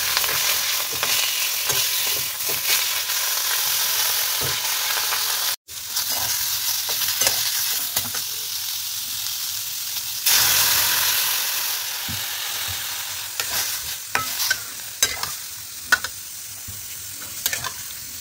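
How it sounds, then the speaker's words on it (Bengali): Fish frying in a small amount of oil gives a loud, continuous crackling sizzle with short breaks and pops, the spattering hiss surging again partway through. "এবার খুব সামান্য একটু তেল দিয়ে মাছটা ভেজে মাছের ঝোলটা চাপাবো"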